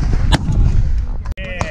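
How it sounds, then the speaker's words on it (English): A Russian gun fired at an outdoor shooting range: a sharp, loud close report with a short ringing tail amid a noisy, rumbling background. "So Billy's shooting the Russian gun here"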